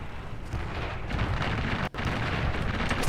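Explosions from a friendly IL-2 plane giving fire support in the War Thunder tank game, a dense rumbling roar of blasts with one brief sharp cutoff midway, loud and continuous.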